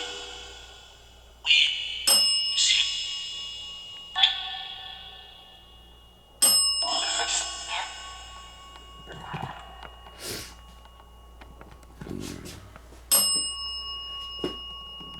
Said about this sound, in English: Thank you for ringing the bell.